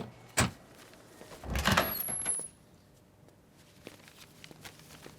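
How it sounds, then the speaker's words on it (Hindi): A door is unlocked and opened for a supermarket delivery in a Hindi film scene: a sharp click, then a longer scraping slide of the door, followed by faint shuffling movements in a quiet room. "मैं दरवाजा अनलॉक करती हूँ, सामान टीवी के पास रख देना।"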